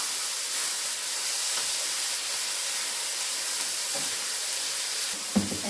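Bok choy going into a hot pan for fried rice, giving a steady close hiss and sizzle that holds evenly throughout, with a small clatter near the end.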